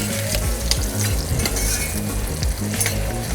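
Chanterelle mushrooms fry and sizzle in butter and oil in a pan, a steady close crackle with occasional stirring scrapes and soft knocks, no voices.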